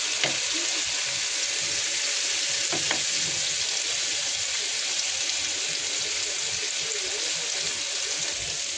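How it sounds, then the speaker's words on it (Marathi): Tandoori chicken pieces fry in a pan with a dense, constant sizzle and a couple of faint clinks, close and even throughout, no talking. "आपण आता फ्राय करून घ्यायचं हे पीस."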